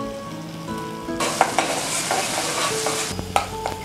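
Tomatoes sautéing with salt in a pan for karunai kizhangu kuzhambu, stirred with a spatula; a bright, steady sizzle starts abruptly after a quiet stretch with faint tonal hum, then scraping strokes and a softer sizzle toward the end.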